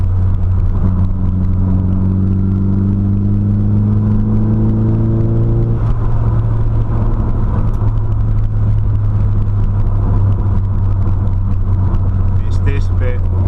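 A Nissan Silvia PS13 with an SR20DET engine drives along with a steady, loud in-cabin engine drone and road rumble, a rising rev tone fading out partway through, as someone talks over it throughout.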